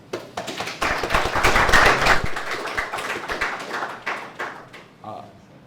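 Audience applause at a youth entrepreneurship conference, a steady wash of clapping that swells, holds and then thins out to a few scattered claps near the end.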